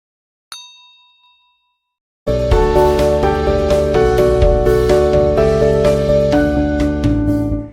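A single bright bell ding rings out and fades, followed after a short pause by loud, sustained music.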